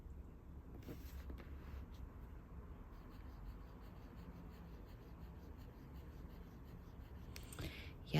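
A Twsbi Eco Caffe Bronze fountain pen with a fine nib, inked with Robert Oster Toffee, scratches softly across paper in a quiet, close-up stretch of steady writing strokes.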